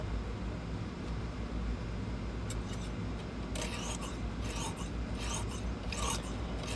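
A knife is drawn across Lansky hones in a clamp-guided sharpener, making faint, repeated scraping strokes over steady low background noise, with a few sharper rasps toward the end.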